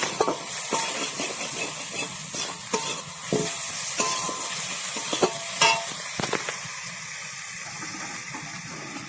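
An amodi fish curry is sautéed in a pan, with a steady close sizzle broken by repeated clinks and scrapes of a spatula stirring the mixture.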